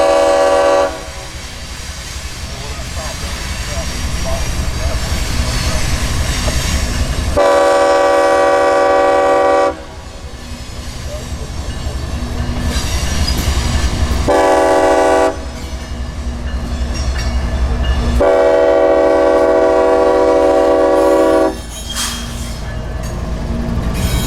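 A freight train rumbles past close by as its horn sounds repeatedly in long blasts separated by short gaps, all over the steady roar of the rail cars.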